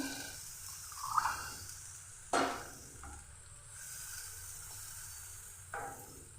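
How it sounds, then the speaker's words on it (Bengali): Water poured into fried spice masala in a pan for a katla carp curry, giving a faint, close sizzle with a few soft splashes and clatters, no talking. "এবার আমি দিয়ে দিচ্ছি পরিমাণ মতো জল দিচ্ছি"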